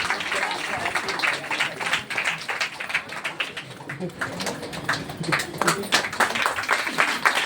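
An audience at a women's wellness gathering claps together, a dense, continuous patter of many hands that stays fairly even for several seconds, with a few voices mixed in underneath.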